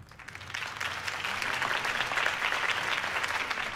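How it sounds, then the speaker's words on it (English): A crowd claps steadily throughout in the video game Batman: The Telltale Series, a dense continuous applause that swells slightly and holds without pause. "If only Mr. Wayne, my campaign's largest backer, could have heard that applause"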